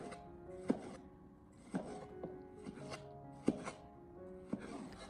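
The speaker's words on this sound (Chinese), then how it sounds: "我们将番茄全部的改刀切成小块以后" A knife chops ripe tomatoes into small chunks on a board, sharp, close, evenly spaced cuts about once a second with quiet gaps between, no talking.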